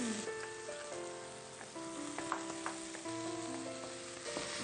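Cumin seeds, onions and green chillies frying in hot oil, a soft continuous sizzle with scattered light pops and spoon scrapes, faint and close, with a tonal musical hum running underneath and no talk.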